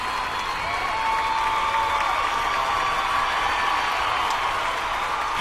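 An audience in an underground theatre applauding a band, a dense steady wash of clapping from a crowd that holds evenly for the whole stretch with a faint whoop.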